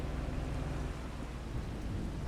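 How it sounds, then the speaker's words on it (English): Heavy rain pours down steadily in a thunderstorm, a thick continuous hiss layered over low rumbling, loud and unbroken throughout with no voices. "it's raining for sure"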